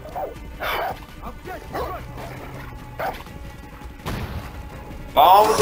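A dog in the video game Far Cry 6 yips and whimpers in short, sharp bursts amid gunfire and crashing game effects, with a player's voice talking over parts of it.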